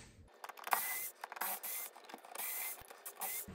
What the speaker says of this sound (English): It sure does make it a lot easier to use an electric screwdriver when doing this, because typically there's a lot of turning involved.